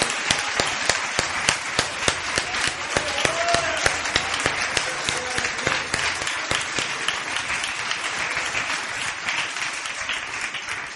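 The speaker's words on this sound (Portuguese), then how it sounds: "nós poderíamos sim aplaudir com mais entusiasmo a esse que é o único digno e merecedor" A church congregation applauds enthusiastically, with sharp individual handclaps standing out close by over a broad wash of clapping that continues evenly for the whole stretch.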